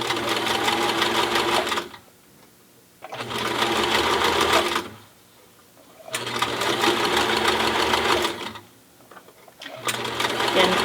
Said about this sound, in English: I'm stitching right over top of the pipe cleaner. I'm stitching it to the seam allowance of the mask.